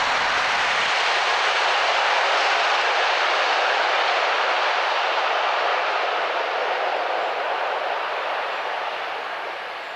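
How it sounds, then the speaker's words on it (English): A train roars past steadily and loudly for about ten seconds, fading slightly at the end: the Welsh Marches Express rail tour at Kidderminster, with steam locomotive Clun Castle and diesel D1755 working top and tail. "Clun Castle, working in top and tail with D1755 at the head of the vintage trains Welsh Marches Express"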